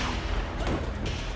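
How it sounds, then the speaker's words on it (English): A heavy, booming blast of cannon fire from a fortified wall position, loud and close, a single dense burst that rolls out briefly with no talk over it. "From the wall itself, the release of arrows and cannon fire."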